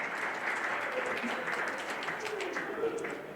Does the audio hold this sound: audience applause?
yes